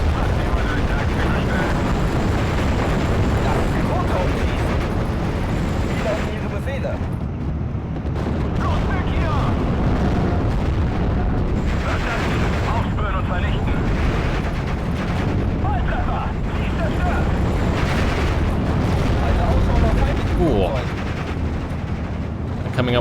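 Flak guns fire in the Normandy 44 setting of Steel Division, a dense, continuous barrage of booming shots and bursts layered over battle noise for the whole stretch, with a voice talking over it.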